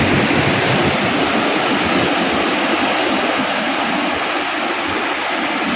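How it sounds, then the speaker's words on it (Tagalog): Rough surf pounding a rocky shoreline, a continuous loud rushing roar of breaking waves and churning water, close by and steady for several seconds with no voices. "Katakot ng alon."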